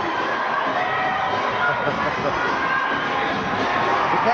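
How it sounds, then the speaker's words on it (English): Rodeo crowd cheering and yelling after a bull ride, a loud, sustained roar of many voices mixed with shouts, with an announcer talking over it. "Look at that crowd."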